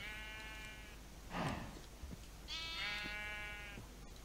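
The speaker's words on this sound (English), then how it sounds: "I've got sheep. Look at that." Sheep bleat in a farming video game, two wavering harmonic calls separated by a short burst of noise, moderately loud and with no speech over them.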